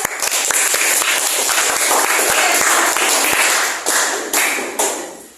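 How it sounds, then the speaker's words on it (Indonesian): Applause at the end of a group presentation in a classroom, a burst of many hands clapping at close range that carries on steadily, then thins and fades out in the last second or two. "Oke, kita kasih aplaus."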